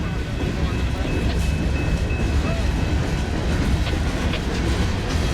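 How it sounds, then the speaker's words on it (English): A long string of C&W coal cars rolls steadily past close by, with continuous wheel rumble and rhythmic clacking over rail joints filling the whole stretch at an even, loud level. "This is an awesome coal train catch"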